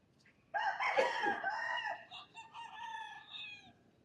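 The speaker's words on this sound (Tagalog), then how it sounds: "May manok." A rooster crows loudly nearby in Manila, a long strained call with a few softer clucking notes trailing off, against quiet background hiss.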